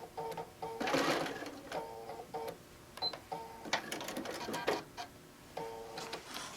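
A sewing machine running a short reinforcement stitch along the bottom of a quilt-as-you-go tote bag, with rapid rhythmic needle clatter in several short bursts separated by brief pauses, close and clear.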